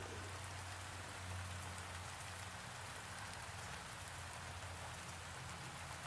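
Steady rain falls and patters on surfaces, a dense continuous hiss with a low hum underneath, no voices.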